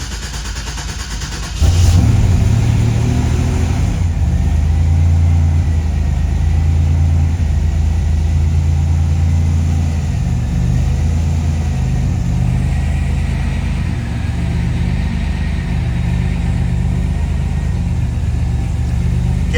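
Buick Grand National engine cranking and catching after about two seconds of quiet, then settling into a loud, close, steady idle with a low throb and slight rises in engine speed.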